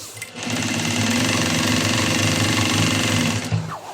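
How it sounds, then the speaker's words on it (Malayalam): A sewing machine, due for servicing, runs loudly and continuously while stitching elastic, its rapid needle rhythm starting and stopping over about three seconds. "ഞാനിതാ ഫുള്ളായിട്ട് സ്റ്റിച്ച് ചെയ്യാൻ പോവാണ് കേട്ടോ"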